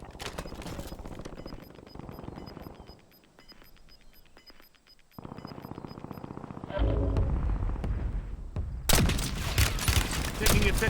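Video game gunfire, rapid bursts and rattling volleys in a busy mix with a constant tone and occasional radio-style voice lines, growing louder toward the end.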